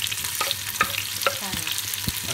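Onions and fennel sizzle and crackle in a pan while a utensil stirs and scrapes a few times, close and fairly quiet.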